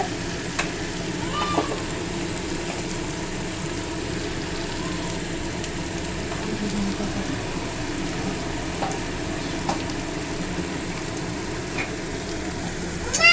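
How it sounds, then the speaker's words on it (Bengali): Onions fry over a high gas flame in a pan, giving a moderate, even sizzle close by with a few faint clinks and bumps scattered through, no talking. "হ্যাঁ এই দেখো বন্ধুরা, পেঁয়াজ ভাজা হচ্ছে।"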